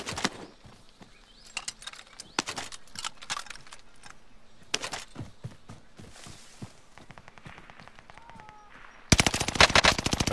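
Rapid bursts of automatic gunfire in a Warzone Pacific Caldera firefight, sharp cracks in clusters and scattered shots, ending with a louder, dense volley up close.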